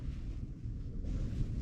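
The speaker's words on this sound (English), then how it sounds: "We've got a bit of a windy, rainy day." Wind gusts and rain pound the microphone outdoors at the Kyle of Durness in northern Scotland on a stormy day. The sound is a steady, rough low rumble with no voices.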